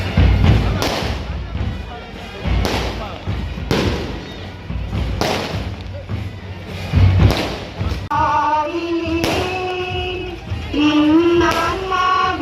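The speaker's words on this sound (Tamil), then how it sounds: "பவனியின் போது வான வேடிக்கைகளும் பட்டாசுகளும் வெடிக்கப்பட்டது." Fireworks and firecrackers bursting during a church chariot procession for St. Xavier's cathedral, a series of sharp loud bangs and thuds at irregular intervals, followed by festive drums and music in a noisy outdoor crowd.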